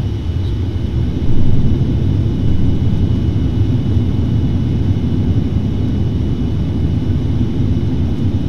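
Boeing airliner rolling out on the runway after landing with speed brakes up, a steady loud low roar and rumble of engines and wheels, constant throughout with no talk.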